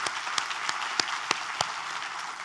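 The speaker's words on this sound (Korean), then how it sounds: "우리 하나님께 감사와 영광의 박수를 드리겠습니다." A church congregation claps in praise during a sermon, a steady wash of applause punctuated by louder, evenly spaced claps that fall into a loose beat.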